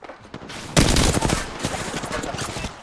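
Kraber sniper rifle fire in an online shooter match, one loud sharp report cutting in about a second in and echoing off, over steady game background noise and other distant gunfire.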